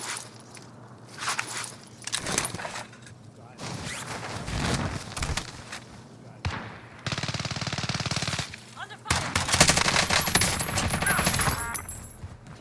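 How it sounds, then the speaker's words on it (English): Gunfire in the Warzone video game: loud machine-gun bursts and scattered shots in several separate volleys, mixed with footsteps and other game noises, near and harsh. "they were already shooting right at you"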